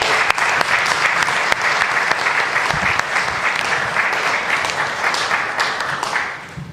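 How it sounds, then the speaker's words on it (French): Loud, sustained applause from an audience at a press conference, thick rapid clapping from many hands that holds steady before easing off at the end. "je vous demanderai de l'applaudir pour tout ce qu'il fait."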